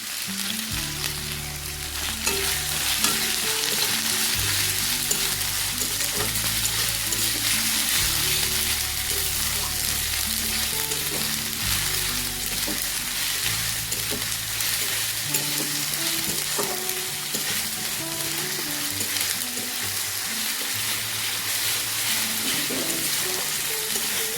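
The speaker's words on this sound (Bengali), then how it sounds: "পেঁয়াজটা আমরা ভালো করে একটু লাল মতো করে ভেজে নেব।" Sliced onions sprinkled with salt fry in a pan for a light hilsa fish curry, giving a continuous dense, even sizzle with faint stirring scrapes throughout and no voice.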